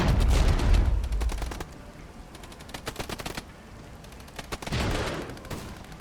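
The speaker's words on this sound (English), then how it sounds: "There you go, here come the rockets." Rocket barrage in the Cold War tactical video game Regiments, staged at night in June 1989: heavy rumbling launches open the clip, then rapid crackling bursts of explosions return in waves, loud and close, with no voices.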